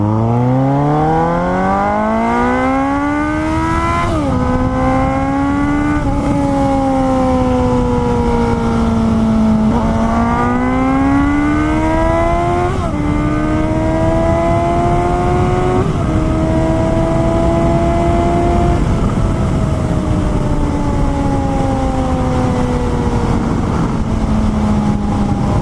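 A 2018 Suzuki GSX-S 750 motorcycle engine at high speed, loud and continuous, its pitch climbing through several gear changes with brief dips between them and then holding steady, with heavy wind rush and no talking.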